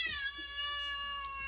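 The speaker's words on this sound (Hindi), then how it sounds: "बिल्ली यहाँ पे कुत्ते को जाने की कोशिश कर रही है" A cat gives one long, drawn-out meow with a steady, tonal pitch, close and clear with no talking over it.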